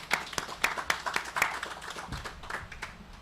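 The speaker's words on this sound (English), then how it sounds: "Big round of applause, please." Audience applause at an awards ceremony, a brief round of clapping from a crowd with sharp individual claps standing out, steady for about three seconds before thinning out, with no talk over it.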